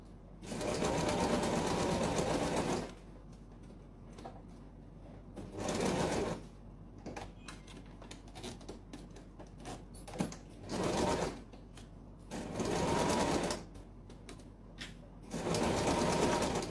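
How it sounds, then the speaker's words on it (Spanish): Domestic sewing machine stitching a zipper into a folding fabric pencil case, running in several loud bursts of a few seconds each, separated by quieter pauses with handling noise and no talk. "Vamos a colocar ahí y vamos a coser. Cosemos el cierre."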